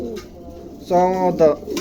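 A pair of blue pigeons for sale coo in short, close bursts, two throaty calls standing out against quiet background noise.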